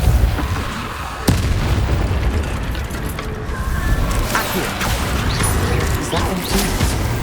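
Convulso spell blasts in the game Hogwarts Legacy burst out as booming explosions over a dense rumbling battle din, with a sharp hit near the start and more crackling impacts throughout.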